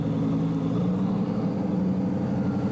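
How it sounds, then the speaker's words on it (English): A supercar fitted with a Mansory exhaust system idles just after start-up, giving a loud, steady, deep engine drone that holds evenly throughout. "It sounds amazing with the Mansory exhaust system."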